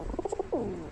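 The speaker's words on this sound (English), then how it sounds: "That sounds more like a pigeon" A pigeon or dove call played over the radio: a quick run of four short soft cooing pulses followed by one longer, drawn-out coo, heard alone and fairly close.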